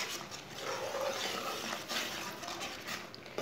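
A spoon stirs jam as it cooks in a pot, giving a soft, continuous scraping and swishing at close range, alone and fairly quiet.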